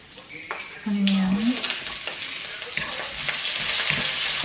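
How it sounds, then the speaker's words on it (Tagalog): Garlic sizzling and frying in a home kitchen pan, a steady hiss with a brief stir or scrape early on, loud and close throughout with no talking. "Isusutay ko lang tong bawang"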